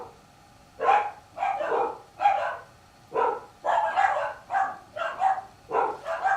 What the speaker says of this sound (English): Sorry about all the dogs barking.